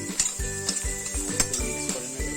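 Egg being stirred into frying potatoes and carrots in a pan, with a quick series of spatula scrapes and clinks over a soft, steady sizzle.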